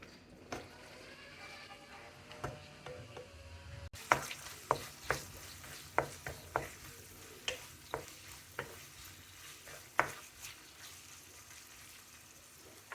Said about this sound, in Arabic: ونشحر هاد الكالامار شويه حتى يدخلوا الحياض